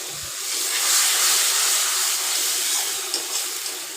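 Tomato paste hits a pan of frying spice paste made with ground spices and Kashmiri chilli powder, cooked for a Bengali pabda fish curry. It makes a loud, steady, hissing sizzle that swells briefly and stays continuous with no voices.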